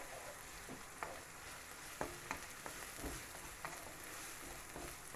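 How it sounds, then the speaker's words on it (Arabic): Chopped onion sizzles steadily in a hot pan, a continuous fry with scattered louder pops and stirring scrapes throughout, close and alone without talk. "هي البصيله ديالنا كتشحال"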